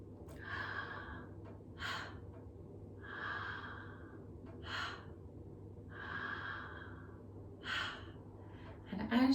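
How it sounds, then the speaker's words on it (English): Gentle, unforced breathing exhales during a relaxed breathwork exercise, soft airy breaths like misting a mirror, about six slow breaths at an even rhythm, close and quiet over a low steady background hum. "as you can hear from my exhale, it's not really strong. I'm not forcing out an exhale."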